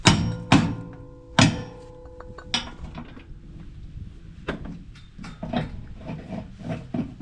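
A hammer bangs on a toy hauler axle part, a few sharp metallic bangs near the start, followed by lighter knocks and clanks spaced irregularly.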